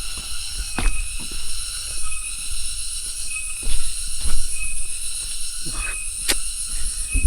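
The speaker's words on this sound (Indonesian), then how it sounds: "Nah ini nih suara tonggeret nih yang bikin nambah estetik. Dengarkan suara tonggeret." Cicadas on a mountain trail give a steady, high-pitched buzzing drone throughout. Scattered footsteps and rustling sound nearer to the listener, with occasional sharp clicks.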